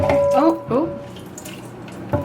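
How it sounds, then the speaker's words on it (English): Tap water runs in a sink to rinse a kidney, a light splashing trickle in short bursts. A person talks over it, close and clear. "And then we're going to rinse that off with some water."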